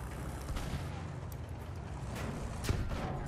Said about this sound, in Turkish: Aha bomba.